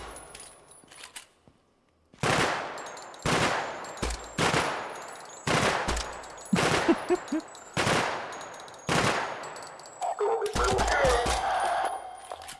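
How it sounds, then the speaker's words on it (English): Single gunshots from a gun in a video game ring out loud and close, about eight separate cracks spaced a second or so apart, ending in a busier burst of noise. "You can keep shooting all you want."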